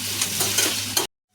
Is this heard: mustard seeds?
yes